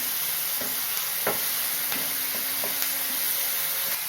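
Curry leaves sautéing in oil for a pepper garlic kuzhambu give a steady hissing sizzle, punctuated by light scraping taps of a spatula stirring every half second or so, close and with no talking.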